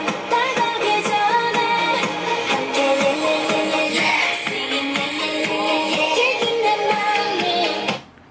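Music plays through a JBL SoundBoost Moto Mod speaker clipped to a Moto Z phone. It is full and steady at an even level for about eight seconds, then cuts off abruptly.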